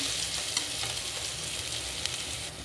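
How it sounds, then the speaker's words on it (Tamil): Ginger garlic paste sautéing in oil with biryani masala and a bay leaf, a steady close sizzle with faint scrapes of stirring, no voices. "இஞ்சி பூண்டு பேஸ்ட் பச்சை ஸ்மெல் போகிற வரைக்கும் வதக்குனதுக்கப்புறம் நம்ம அரைச்சி வச்ச மசாலாவை ஆட் பண்ணிக்கலாம்."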